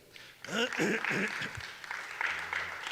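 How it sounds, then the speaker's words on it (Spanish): A church congregation claps, a steady spread of applause rising under a voice and continuing faintly after he pauses. "Dale un fuerte aplauso."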